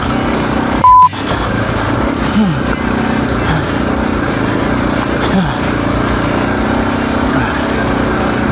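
A technically faulty motorcycle whose clutch has fallen out and whose throttle will not close runs as a steady, rough, close engine drone. It holds unbroken through the whole stretch, with one short electronic beep near the start.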